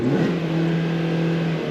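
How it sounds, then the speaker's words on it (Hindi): A Maruti Suzuki Baleno's four-cylinder petrol engine revs steadily, heard from the cabin with the windows down, a loud, sustained mid-pitched drone that rises briefly at the start and holds for under two seconds without any talk. "सबसे पहले तो यार ये 4 सिलेंडर इंजन की रिफाइनमेंट चेकआउट करा देता हूँ।"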